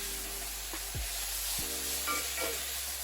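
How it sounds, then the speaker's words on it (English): Shredded jackfruit cooks in a hot pan for Asian BBQ jackfruit, giving a steady sizzle and hiss while a spatula scrapes and breaks it up, with faint tonal background sounds and no speech. "as it cooks, I'm just breaking it up a little bit with my spatula as well"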